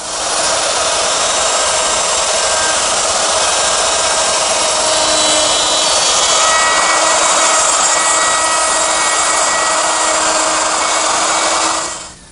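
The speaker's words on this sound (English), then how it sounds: "I'm using my router, which is set up with a dovetailing bit, and this little collar right here follows the jig" A router fitted with a dovetail bit cuts pins in wood, its collar following a jig: a loud, steady high-pitched whine with rough cutting noise that runs almost unbroken, then cuts off at the end.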